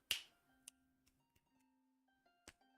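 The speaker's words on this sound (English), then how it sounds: "if I snap my fingers behind" Fingers snap behind a microphone, one sharp crack at the start and a second near the end, with faint ticks between them in an otherwise quiet room.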